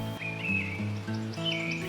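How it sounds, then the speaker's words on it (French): Birds sing in the forest of Bic National Park near Rimouski, Quebec: clear, close, melodic whistled phrases that rise and fall in quick succession over a steady background. "Au son des oiseaux et des cigales, nous partons vers les sentiers balisés."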